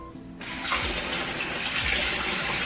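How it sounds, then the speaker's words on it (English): Warm water gushes steadily from a tap into a measuring cup for keto yeast English muffin dough with flaxseed meal, starting abruptly and running continuously, close and fairly loud. "See if we can get more warm water."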